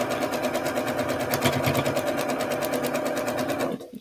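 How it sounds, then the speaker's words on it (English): A sewing machine runs steadily while stitching a quilt block together, a fast even mechanical whir close up that stops abruptly near the end, with no talk. "Line that last end up because I'm going to back stitch at the end. Sew this on."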